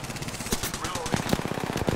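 Rapid automatic gunfire in Apex Legends crackles in quick bursts, dense and close, with in-game voice chatter mixed in over the shots.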